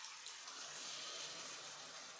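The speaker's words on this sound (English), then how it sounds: "we're gonna go ahead and start putting the water in there" Broth or water pours steadily into a pot of chicken and rice, a soft continuous splashing hiss with no talk over it.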